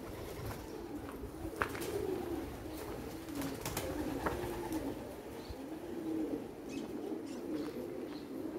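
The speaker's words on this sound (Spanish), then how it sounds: "Son peligrosas las palomas." Pigeons cooing inside an abandoned train station, a series of soft, low, rolling coos repeating through the stretch at moderate distance, with scattered faint clicks and chirps over a quiet, hollow room tone.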